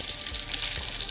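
Chicken breast frying in a pan gives off a steady, close sizzle with soft crackling, a brief continuous hiss without talk.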